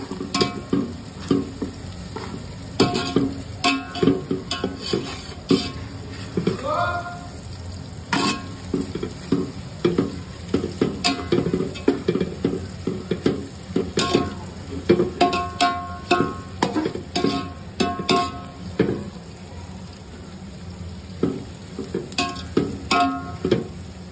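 Onions frying and being stirred in a pan for Hyderabadi chicken dum biryani, a steady close sizzle broken by repeated scraping clatters of the spoon, with no talking.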